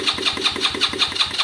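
A Lexmoto Valiant motorcycle engine turns over during a start-up attempt, with a rapid, regular chugging pulse that stays loud and steady and close by for the whole stretch.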